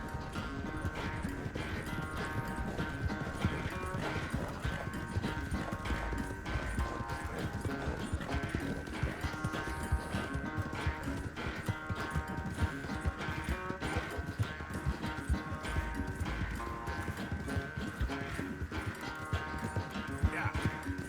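Horse hooves galloping in Red Dead Redemption 2 during a race, a steady fast clip-clop running the whole time beneath a dense bed of game music and effects, with an occasional whinny and talk mixed in.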